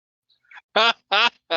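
A person imitates a goose honk, letting out three loud, nasal honking calls in quick succession after a few faint, breathy sounds.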